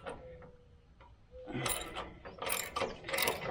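Socket wrench ratcheting on bolts of a Wood-Mizer sawmill saw head plate, with a 9/16 socket: quiet clicks early, then louder bursts of rapid mechanical ratchet clatter in close, uneven spurts.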